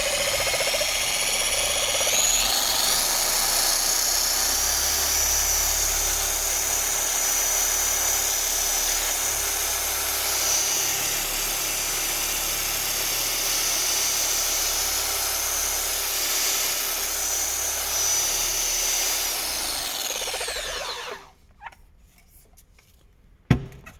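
A Lake Country Udos polisher runs on speed P2, a loud, steady mechanical whir up close that holds for about twenty seconds before spinning down and cutting off, followed by a faint click.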